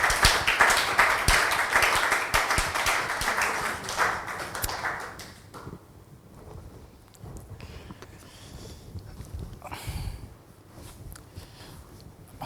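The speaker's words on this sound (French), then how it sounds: "Grace va faire son entrée sur vos acclamations" A studio audience claps and cheers loudly for a guest's entrance on a talk show, dense applause that fades after about five seconds into scattered claps and room noise.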